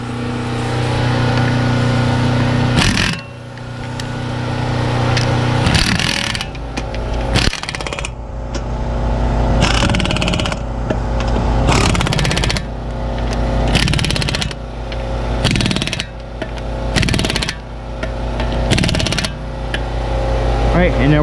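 A power tool tightens front brake parts on a 2008 Volkswagen Jetta 2.5L in repeated loud, rattling bursts separated by short pauses, close up in a garage.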